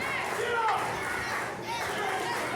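A wrestling crowd at an event center roars and shouts in a dense, sustained wall of voices, with some louder yells standing out during the match.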